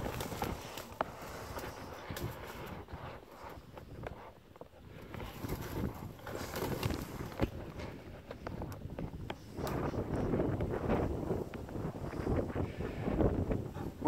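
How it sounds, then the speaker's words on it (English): Wind buffets the microphone outdoors near a rural rubbish tip, a steady rumbling roar with gusts swelling and easing throughout, loud and continuous with no talk. "put up with the wind noise"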